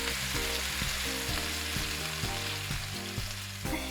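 Beef kofta frying in a pan, crisping on both sides: a continuous close hissing sizzle with small pops and crackles, no one talking.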